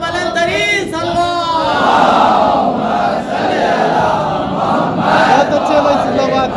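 A large crowd at a celebration of Hazrat Abbas's birth in Avalakonda chants religious slogans in unison, loud and close, with a call-and-response rhythm of a lead voice and the massed answer.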